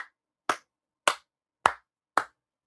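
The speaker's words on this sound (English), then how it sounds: "Everybody give Sam a round of applause." A lone pair of hands claps five times in an even, quick rhythm, each clap crisp and close with clean silence between, quiet overall and no voices.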